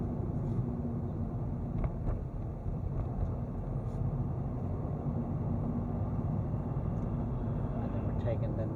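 A car engine drones steadily and loud while the driver eases off to slow down and changes back into third gear, with road and wind noise under it on a Tallaght driving route.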